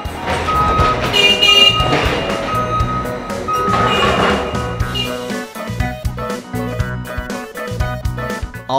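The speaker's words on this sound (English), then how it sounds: "We're currently loading them into the back of a semi-truck." A forklift loading apples into a semi-truck gives off repeated reversing beeps, set against busy, music-like sound throughout.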